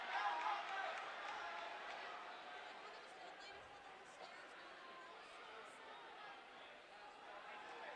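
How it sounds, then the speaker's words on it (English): Teammates cheer and shout from the stands at an indoor college track meet during a relay, a steady, diffuse crowd roar of voices that stays fairly even and moderately distant throughout. "Teammates cheering each other on."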